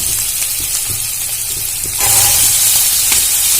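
Sliced potatoes hit frying onions in hot oil in an Indian home kitchen, and the steady sizzle of the pan jumps suddenly louder and brighter, becoming a close, continuous crackling hiss.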